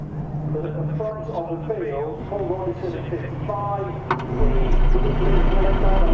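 Someone commentates steadily over the drone of Mark IV Mazda MX-5 racing cars on the grid at Donington Park, engines surging and growing louder near the end as they rev for the start.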